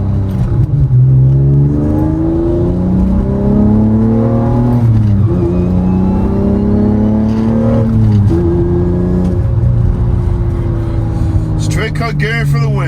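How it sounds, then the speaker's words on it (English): An Acura TL Type-S with straight-cut gears accelerates hard from inside the cabin. The engine note climbs through repeated rising sweeps, breaking at each gear change, with a gear whine riding on top. A person talks over the drive. "Straight cut gearing for the win, and it engages the gear so smoothly too."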